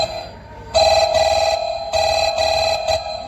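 Telephone ringing while a call is placed: two loud, close bursts of electronic ringback tone, each a double ring, separated by a short pause, with no talk over them.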